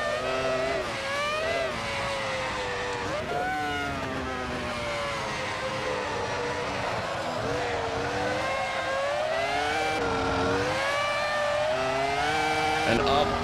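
A V10-engined Dacia Logan races on a track, its high-pitched engine note dropping as it brakes hard and then rising again through repeated revs and gear changes, loud and continuous with a voice talking over it.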